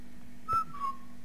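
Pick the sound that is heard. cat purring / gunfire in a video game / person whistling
person whistling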